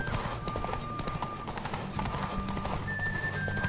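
Roach the horse gallops through The Witcher 3 video game, her hooves beating in a fast steady clip-clop against continuous game music, with a whinny sounding in the middle of the run.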